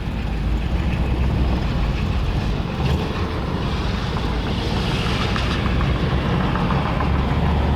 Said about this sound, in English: this thing, you can hear it running, idling.